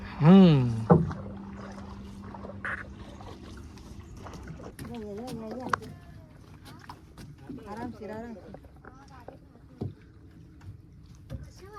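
A boat ride on Usgaon lake, with low water and hull noise steady underneath and people talking throughout, the voices louder than the boat.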